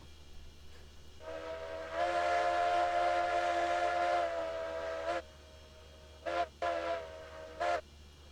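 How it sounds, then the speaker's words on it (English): The Heisler locomotive in the Railroads Online video game sounds its steam whistle in one long, sustained chord, followed by several short separate toots, loud and alone with no talk. "I'm pretty sure this is a whistle that's on the Heisler."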